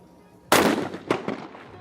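A shotgun shot rings out at a men's team trap shooting World Cup final in Lima, Peru: one loud, sharp blast followed by a quick second report and fading echoes, heard alone.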